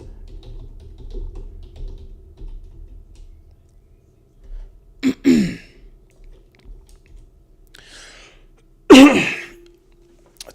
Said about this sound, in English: A terrible cough at the moment.